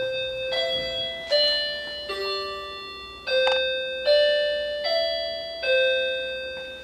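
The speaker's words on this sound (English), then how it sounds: "I hear my doorbell." Home doorbell chiming repeatedly, about seven clear electronic ding tones in steady succession, each ringing out and decaying, close and alone without talk.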